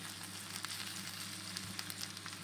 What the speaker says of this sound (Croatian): Miješajte luk da se fino karamelizira i da se ne zalijepi za vašu posudu.